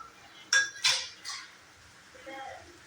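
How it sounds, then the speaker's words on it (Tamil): Roasted peanuts and sesame seeds go into a pan for a brinjal gravy made to go with biryani. Three sharp metallic clinks of utensil against pan ring out close together, followed by a softer scrape and quiet. "வறுத்து வச்ச வேர்க்கடலையும் எள்ளையும் சேர்த்துக்குங்க."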